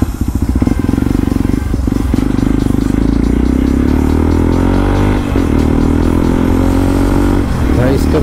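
A motorcycle with a loud exhaust roars steadily on the road, its engine rumbling and revving close by with rattling undertones for the whole stretch.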